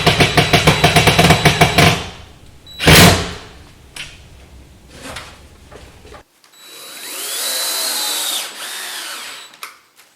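Power drill driving screws to fix a curtain rod end bracket to a wall, with several short whirring bursts and a knock, then a longer steady high-pitched drilling run, close and loud with no talk.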